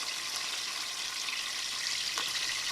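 A 13-inch mangrove snapper sizzles in a frying pan just after being flipped, a steady, dense hiss of hot oil that stays loud and even throughout, with a faint clatter near the end and no talking.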